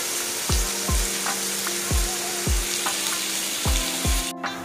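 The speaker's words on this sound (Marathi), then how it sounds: "कांदा आपल्याला ब्राऊन रंग येईपर्यंत परतून घ्यायचा आहे" Onion sautéing in a pan until brown, a steady sizzle with several sharp knocks of a spatula against the pan at an irregular rhythm, close and moderately loud.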